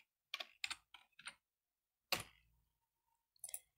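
A few quick keystrokes on a computer keyboard, then a single sharper tap after a pause and a short final burst of keys, all close and fairly quiet with nothing else heard.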